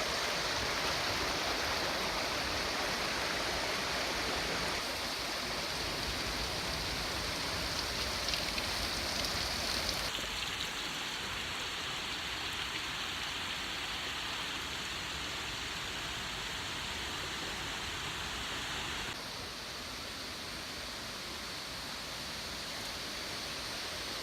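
Machine Falls in the Short Spring Natural Area pours as a steady, dense roar of falling water, broadband and continuous throughout, with no talking over it.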